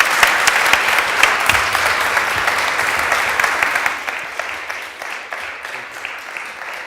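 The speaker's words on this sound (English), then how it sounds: "An applause, ladies and gentlemen." A crowd applauds with dense, steady clapping that gradually thins and fades toward the end.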